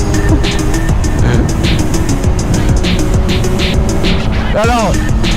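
Triumph Speed Triple 1050 RS motorcycle accelerating on the road, a loud close engine drone mixed with heavy wind rush and a short rising whine near the end.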